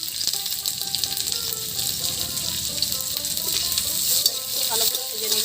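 Chopped onions fry in mustard oil with whole dried chillies, making a loud, continuous, close sizzle with stirring scrapes and crackle throughout.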